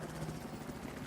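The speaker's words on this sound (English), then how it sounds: "We do have Berserk's helicopter also here as well." Helicopter in a Battlefield-style 8v8 multiplayer game on the Shanghai map, a faint, steady rotor whir with rhythmic chopping pulses, brief and alone.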